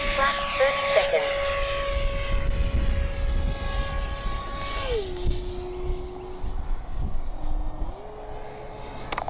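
A Kavan Skyfox L-39 radio-controlled jet flies steadily through a landing approach, its turbine whine holding then dropping sharply in pitch midway as it throttles back, loud and continuous with someone talking over it.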